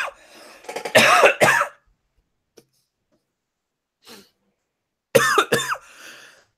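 Two loud bursts of coughing close to the mic, separated by a few seconds of near silence.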